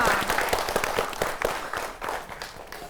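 Applause from the audience at a women farmers' awards grand finale, a brief burst of scattered clapping with distinct individual claps that thins out over three seconds, some crowd murmur mixed in.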